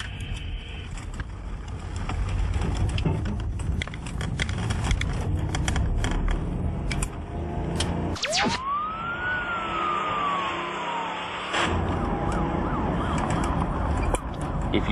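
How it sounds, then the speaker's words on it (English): A police car siren rises and wails in a sweeping tone over steady road traffic noise, loud and close, fading after several seconds as vehicles continue passing. "If you see blue lights in your rearview mirror or you hear a siren"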